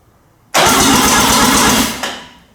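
A Mazda RX-7 with a 12A rotary engine fires up abruptly and runs at a loud, steady, buzzing idle up close. The sound dips slightly near the end, and nobody speaks.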